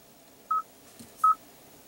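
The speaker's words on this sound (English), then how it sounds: "you have an integrated dial pad" Two short electronic touch tones from the integrated dial pad of a 2016 Kia Sorento's infotainment screen, separated by a brief pause and followed by a faint click, clear against a quiet cabin.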